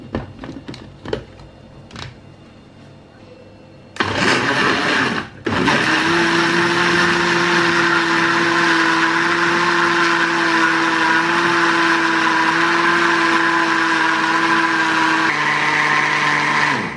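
An electric blender whirs through a pineapple and pepper smoothie with water, starting after a few light clicks and a brief burst, then running loud and steady with a constant motor whine until it winds down at the end.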